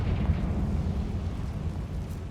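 A Confringo blasting spell goes off in Hogwarts Legacy inside a tomb, a loud, sustained booming rumble like an eruption that rolls steadily for a couple of seconds.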